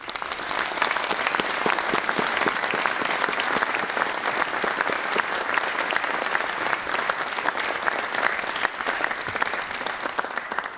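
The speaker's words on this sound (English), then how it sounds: "You can always tell by the duration of the applause how happy you are to have had that finished." A large audience applauds loudly and steadily at a law school convocation ceremony, dense clapping sustained without a break for the whole stretch.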